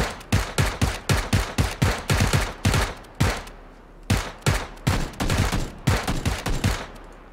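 Rapid bursts of automatic gunfire in the video game PUBG, loud and close, with rhythmic shots in quick strings and short pauses between bursts.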